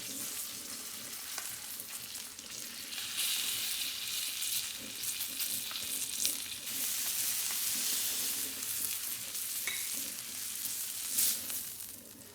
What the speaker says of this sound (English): We're going to try to sear off some of this fat on the sides here.